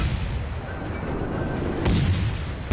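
Triple-gun warship cannons firing in the World of Warships naval combat game, with a sharp broadband boom near the end and another at the very close, over a steady rumbling battle background.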